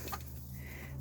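A pet hen clucks softly at bedtime, a few short low clucks close by at the start, then a quiet indoor background with a steady hum.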